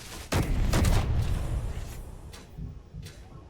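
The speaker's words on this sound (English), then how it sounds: "it appears we're firing at something again" Ship weapons fire in the space game Space Engineers, a run of heavy booming shots in quick succession followed by a few fainter, spaced thumps as the barrage trails off.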